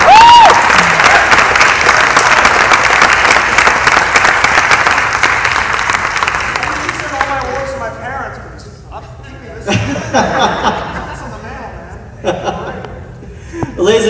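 Loud, sustained crowd applause at an evening Q&A at the San Pedro International Film Festival, filling the first seven seconds and then thinning out as a voice speaks over scattered claps.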